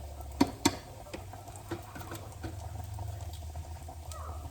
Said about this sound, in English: Gonna stir my kids' pastaroni so it doesn't get all clumpy.